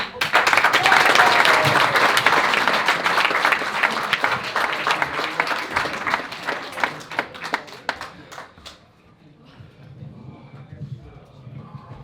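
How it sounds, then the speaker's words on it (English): A comedy-club audience gives a comedian a loud, dense round of applause that breaks into scattered claps and fades after about nine seconds, with voices audible at the tail. "So a loud applause, please, and a warm, and make sure you laugh, James Connell."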